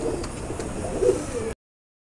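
A pair of Teddy breed pigeons from an imported bloodline coos softly in a low, murmuring rhythm for about a second and a half before falling silent.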